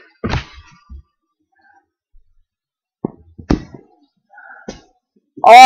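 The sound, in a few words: football being kicked in a backyard game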